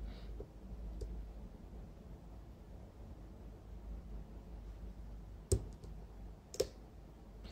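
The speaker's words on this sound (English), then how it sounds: "we get the binding of the first pin, and we could hear a click." A lock pick works a security pin, giving faint, sharp clicks: a small tick near the start and two distinct clicks later on, set against a quiet, low background hum.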